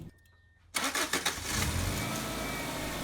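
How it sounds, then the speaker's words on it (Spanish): A car engine that is completely cold cranks briefly and catches, then settles into a steady, fairly loud idle that continues to the end. "Aquí tengo un motor completamente frío. Voy a encenderlo"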